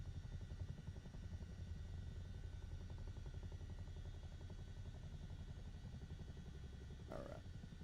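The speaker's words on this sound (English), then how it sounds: "there's a Chinook hovering over your house." A Chinook helicopter hovering in Microsoft Flight Simulator 2024, a steady low rotor thrum and engine drone continuing throughout at a constant, fairly quiet level.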